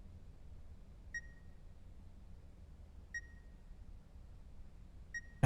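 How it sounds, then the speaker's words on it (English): Three identical electronic beeps spaced two seconds apart sound faintly from inside a hanging animal carcass in the video game The Beast Inside, set against a quiet low background hum. "That beeping. It sounds like it's coming from inside of the carcass."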